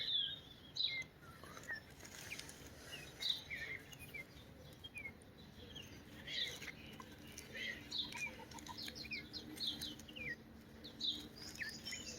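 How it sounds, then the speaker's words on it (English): Scattered bird chirps and short calls ring out over a quiet outdoor background, some nearer and some distant, with no voices. "This is usually just birds away in the morning."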